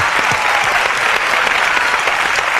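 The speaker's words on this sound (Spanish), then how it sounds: "a todos ellos un fuerte aplauso" A television studio audience claps in sustained, dense applause for a 1998 Eurovision retrospective, even and loud throughout with no voices standing out.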